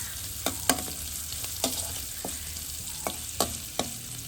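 Onions, mustard seeds and curry leaves fry in a pan, sizzling softly and steadily with a few sharp pops and scraping stirs, faint and close.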